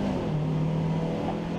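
An Alfa Romeo race car at Snetterton, competing in the 2017 BRSCC Alfa Romeo Championship, brakes and drops a couple of gears, its engine note droning steadily and moderately loud.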